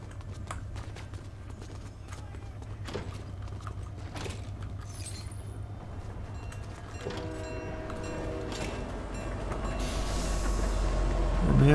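A train rumbles and clatters in Fortnite, a rhythmic clip-clop of wheels over a low steady drone that builds louder and nearer toward the end, with a few sharp knocks along the way.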